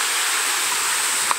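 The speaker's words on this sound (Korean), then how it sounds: "이렇게 바로 옆에 계곡이 흐르고 있어요." A mountain valley stream flows steadily nearby, its broad, even rushing water filling the whole stretch without a pause, with a faint brief tap near the end.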